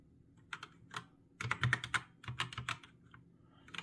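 Keystrokes on a GamePower Suki TKL tenkeyless mechanical keyboard with black switches, close and clear, in uneven bursts of taps with brief pauses.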